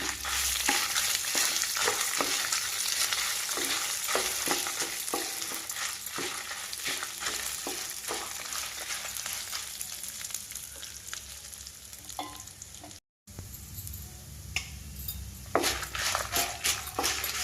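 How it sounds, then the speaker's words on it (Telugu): About twenty red chillies frying in a pan give a continuous crackling sizzle, close and steady, broken by repeated scrapes and clinks of a stirring spoon against the metal, with one brief dropout near the end. "మిరపకాయలు వేయించుకున్నామండి"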